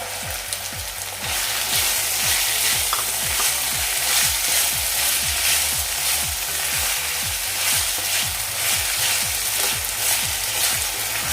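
Green peas go into a cauliflower masala frying with tomato, a loud steady sizzle with a regular, rhythmic series of spoon strokes stirring the pan close up, no one talking.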